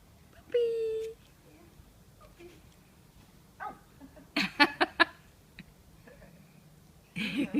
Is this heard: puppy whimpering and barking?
yes